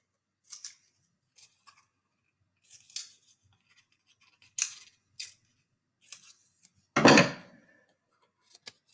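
Scissors cut open a paper model of a bacterial plasmid, giving a series of crisp, close snips at irregular intervals in a quiet room, with one longer, louder cut near the end.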